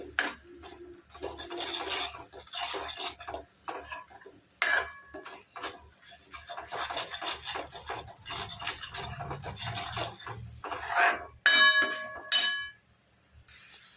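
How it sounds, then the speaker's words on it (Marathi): Curry with freshly added asafoetida stirred in a metal pan, rhythmic scraping and rasping of a spoon against the pan with occasional clinks and ringing metal taps, close and fairly loud. "आता टाकत आहोत हिंग परत मिक्स करून घेणार"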